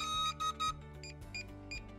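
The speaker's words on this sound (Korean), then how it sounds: "삐 소리가 나면 손을 떼세요." A DJI Mavic Air 2 drone and its remote controller during binding give short electronic beeps, a few clear tonal chirps in quick succession over a low steady hum, close and fairly quiet.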